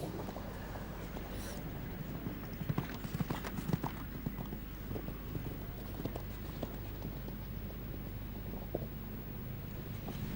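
Horse hooves clip-clopping across the arena during a show jumping round at the Royal International Horse Show's King George V Gold Cup, faint and patchy beneath crowd ambience and a steady background hum.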